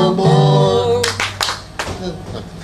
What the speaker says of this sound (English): You clap four times.